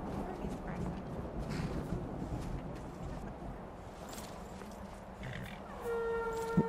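Horse sounds in the Skyrim video game: faint clip-clop and snorting within a murky game soundscape, with a sustained tone rising near the end.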